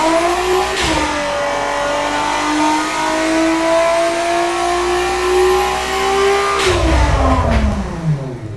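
A 2,891-horsepower engine in the car-building game Automation revs up, its pitch climbing and holding in a smooth, loud whine before dropping back, with a brief blip near the end.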